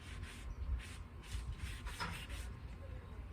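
Sponge dabbing and rubbing paint onto sanded wood, a soft close scrubbing with repeated short strokes in a quick rhythm, faint and alone.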